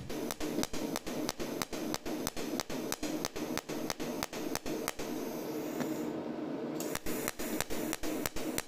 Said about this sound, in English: Then follow the solder joint to weld one by one, and you can see the speed is very fast.